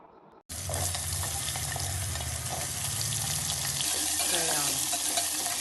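Ingredients fry in a pan with a dense, bright sizzle that starts abruptly after a brief quieter moment and continues loud and steady, with faint bubbling underneath.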